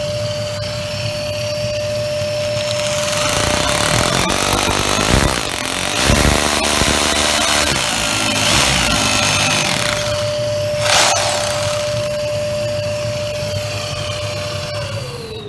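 A power drill bores into a solid plaster wall while a vacuum catches the debris, a steady loud grinding whine running almost the whole stretch, rising and roughening midway as the bit bites deeper.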